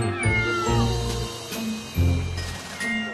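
A cat meows repeatedly after being rescued from a balcony, with several drawn-out, plaintive cries in a row; close and clear, no talk.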